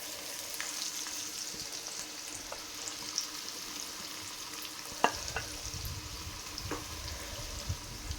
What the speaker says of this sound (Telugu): ఒక 10 నిమిషాలు పట్టిద్దండి ఫ్రై అవ్వడానికి.